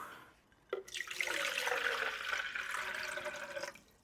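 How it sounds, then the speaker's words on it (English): Water poured onto a freshly repotted houseplant, a steady broadband splashing stream that starts with a short knock and runs for about three seconds before stopping, close and fairly quiet with no talking. "Water it right now."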